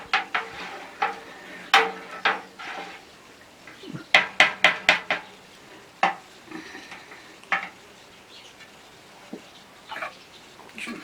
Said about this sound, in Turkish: Bir sefer karıştırıyoruz arkadaşlar.